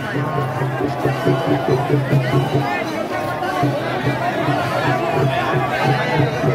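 Dense crowd of devotees gathered at a temple for the palkhi darshan of Sant Tukaram Maharaj in Yavat, a steady babble of many overlapping voices close by with no single voice standing out.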